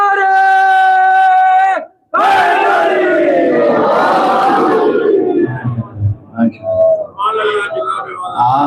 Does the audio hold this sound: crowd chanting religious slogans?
yes